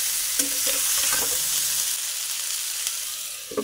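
Drumsticks (moringa) being stirred and fried in mustard oil in a covered pan, with no onion or garlic; a steady sizzle fills the background while a few clear scraping stirs come through close by.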